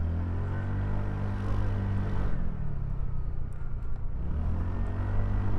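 A TVS NTORQ 150cc scooter accelerating while ridden, a steady droning engine note that dips and then climbs again amid wind rush, heard close with no talking.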